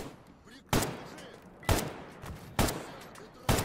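An AK rifle fires in the video game S.T.A.L.K.E.R. G.A.M.M.A, four loud single shots about a second apart, each with a sharp crack and a short echoing tail.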